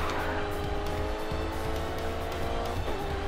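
Race car in the Grid 2 video game closing in fast, a loud continuous engine roar with rising pitch and tyre squeal, close and steady throughout without talk.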